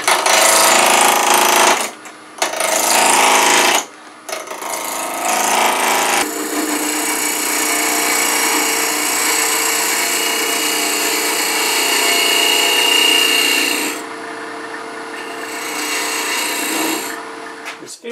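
A wooden sphere blank being roughed out on a lathe, loud harsh scraping and rasping from the cutting tool in long bursts separated by short pauses, with a steady motor drone beneath.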